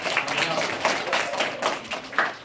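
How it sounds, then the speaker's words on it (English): A small audience at a magic show clapping in a light, uneven patter of individual handclaps, moderately close and without talk. "let's give them a nice round of applause"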